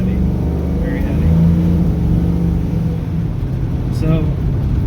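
Car driving along after a quick ratio steering box upgrade, a steady low engine and road rumble filling the whole stretch with a slight rise in revs, no talk.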